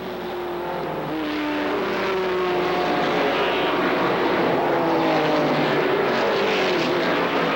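ARCA SuperCars race cars roaring past at Kil Kare Speedway in 1995: a sustained, loud engine drone with rising and falling pitches as several cars go by in close succession.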